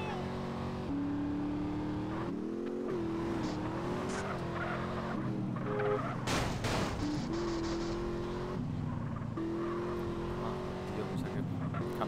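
Car driving in Grand Theft Auto San Andreas, the engine revving up and down with rising pitch sweeps and some tire squeal, someone talking over the game sounds.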